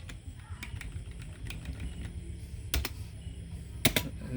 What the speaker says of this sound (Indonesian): Saya itu payah tuh ngetiknya, itu ngetik tangan sebelah.